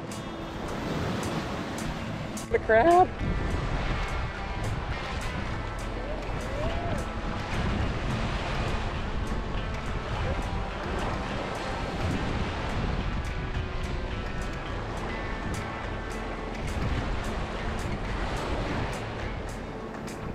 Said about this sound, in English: Waves lapping up.